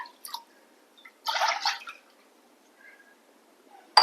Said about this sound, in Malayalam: നമ്മളിതിലേക്ക് 2 ഗ്ലാസ് വെള്ളവും കൂടി ഒഴിക്കുന്നുണ്ട്